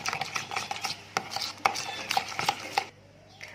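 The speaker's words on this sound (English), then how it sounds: "Just mix it up properly." A spoon stirs mayo cream sauce in a bowl with quick, close, repeated scraping and tapping strokes. A short quiet pause comes near the end.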